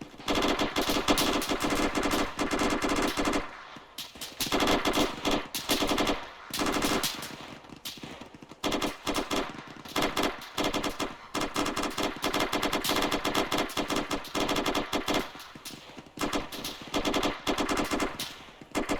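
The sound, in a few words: rapid gunfire during army section training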